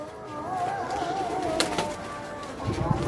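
Pigeons coo on a rooftop, soft wavering calls running through a low background murmur, with a brief sharp sound in the middle and a thump near the end.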